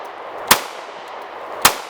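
Two sharp metallic clicks from the trigger resetting on a full-size KOR FX 9 handgun, spaced about a second apart, crisp and close against a quiet room.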